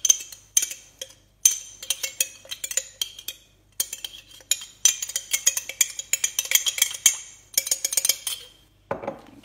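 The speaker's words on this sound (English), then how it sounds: "And then we are going to give that a wee stir. Just to try and get most of the lumps out." A spoon clinks and scrapes against the inside of a jar while stirring a noodle jar mixture to break up lumps, a quick run of bright metallic taps and rattles in bursts, close and fairly loud, ending in a duller knock.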